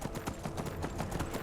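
Horse hooves clip-clop at a steady trotting rhythm as a horse carriage travels in the video game Skyrim, each hoofbeat crisp and close, with a faint voice underneath.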